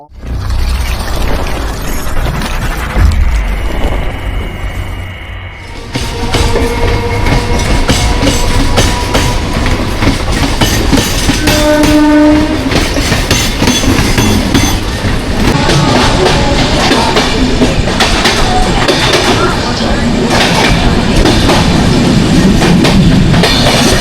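A train roars along at speed through Dum Dum Junction with dense rhythmic clattering of wheels over rail joints, loud and close throughout, with a brief squealing tone midway.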